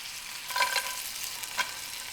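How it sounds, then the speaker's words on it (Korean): Marinated beef stir-frying in a lightly oiled pan, a soft steady sizzle broken by a few brief scraping stirs, close and fairly quiet with no talking. "먼저 기름을 살짝 두른 팬에 밑간에 든 소고기를 볶다가 한쪽에 간장 소스를 부어 끓여준다"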